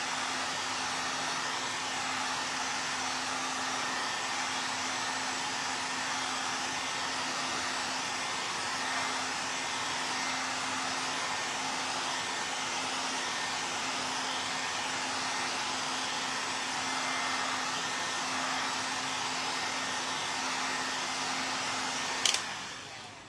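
A hair dryer runs steadily and fairly loud while drying a round mixed media craft panel, a constant whooshing airflow with a low hum, cut off abruptly near the end.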